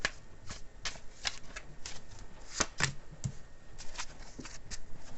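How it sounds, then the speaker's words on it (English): Cards from a Chinese tarot deck being shuffled and handled close up, a string of soft, quick riffling snaps and slides in uneven bursts, with no one speaking. "I'm gonna pull one more card here. I like to do it for my Chinese tarot deck here."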